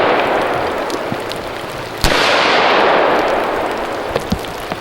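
A pistol fitted with REOS offset sights fires a single sharp, loud shot on an outdoor range, followed by a long hissing echo and a few faint distant pops.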